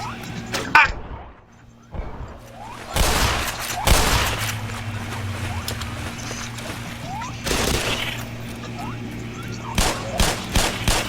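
Gunfire bursts in the Black Mesa video game, with several loud shots and impacts scattered across a noisy in-game scene, a sharp crack near the start and heavier blasts around the middle and end.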